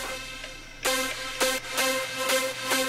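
Music run through Fruity Reeverb 2 set to a small hollow room, a quiet lead-in followed by punchy rhythmic hits with a short, boxy reverb tail, close and without talk.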